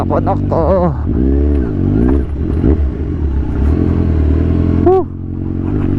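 A motorcycle labours over a rough, rocky road in Infanta, its engine loud and close as the throttle and clutch are worked, with revs rising and falling and clattering over stones.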